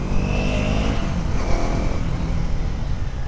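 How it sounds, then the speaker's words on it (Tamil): A 2024 Husqvarna Vitpilen 250 motorcycle's exhaust under throttle, a loud close engine roar with wind rush, steady through the clip with no talk. "நல்லா அந்த த்ராட்டில் கொடுத்தப்போ அந்த வெஹிக்கிள்லேருந்து வர எக்ஸாஸ்ட்"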